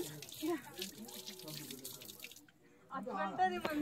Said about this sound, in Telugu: tap on